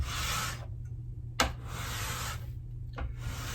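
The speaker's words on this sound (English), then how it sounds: "I'm going to now take a card scraper and with the grain, scrape back" A card scraper drags with the grain across wood, stripping leftover lacquer finish from a table, in three long raspy strokes separated by short pauses, close and clear with no talking.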